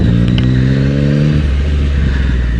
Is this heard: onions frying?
no